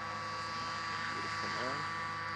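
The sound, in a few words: airplane engine throttled down during landing approach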